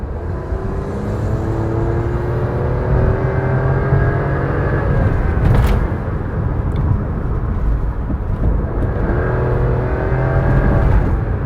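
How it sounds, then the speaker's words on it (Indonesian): Toyota Raize 2021 three-cylinder engine accelerating from inside the cabin, a steady loud drone with rising harmonic sweeps as revs climb, repeating after a brief dip mid-clip, no talking. "kalau akselerasi suaranya suara 3 silinder. Moga-moga Anda kedengeran nih saya akselerasi nih."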